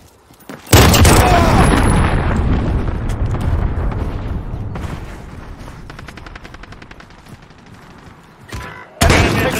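Loud explosions and booming blasts from a cruise missile strike in Call of Duty: Modern Warfare multiplayer, a heavy impact followed by rumbling debris and rattling gunfire, with another sharp blast near the end.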